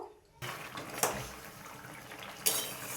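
A metal lid set onto a pot of eggplant curry brought to a boil in a home kitchen gives two light clinks of metal on metal over a soft background hiss.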